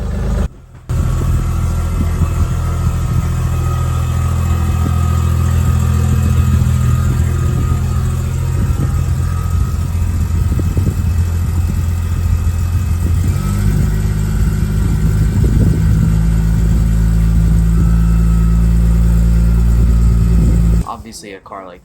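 Turbocharged Lexus GS300 running an open downpipe, its engine idling with a steady low rumble that swells into revs, loud and close for about twenty seconds and then cut off abruptly.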